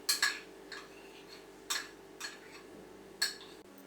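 A spoon stirs cashew nut gravy in a pan, making a few light, separate clinks and scrapes against the metal with soft pauses between them, close and quiet.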